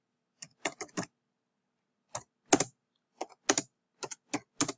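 Typing on a computer keyboard while entering a read CSV command in R: short, close bursts of crisp key clicks separated by brief pauses, with no talking.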